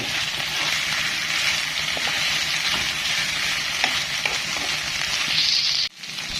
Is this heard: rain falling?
no